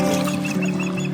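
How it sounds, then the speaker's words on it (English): Birds near a lake cove give a quick series of loud, close, clucking calls, heard over a steady background hum. "those birds do not like that I am over here right now"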